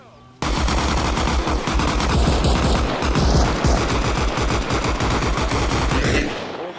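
Sustained automatic gunfire in the video game ARMA Reforger, set at an NCR checkpoint during a large battle, with dense rapid bursts from several weapons overlapping continuously and loudly for about six seconds before easing slightly at the end.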